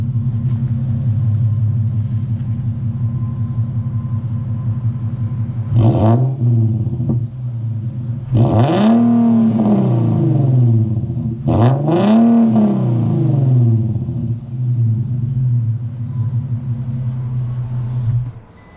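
A muffler-deleted Infiniti Q50 3.7 idles with a deep, steady drone, then three sharp revs climb and fall back, the engine raspy and close before settling back to idle.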